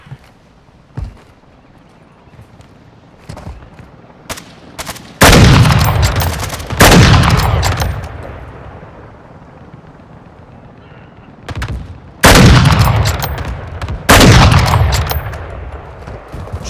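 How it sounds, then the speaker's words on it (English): Gunfire in Call of Duty: Modern Warfare II Ground War: scattered single shots, then heavy bursts of loud, close automatic fire in two separate volleys, each trailing off into echoing reverb. "Taking effective fire!"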